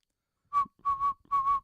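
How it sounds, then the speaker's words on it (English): A person whistles three short, clear notes near the microphone, a brief blip followed by two longer, slightly wavering tones, with silence before them. "I'm not going to keep We whistling."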